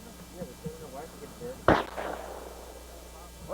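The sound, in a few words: gunshot fired at a can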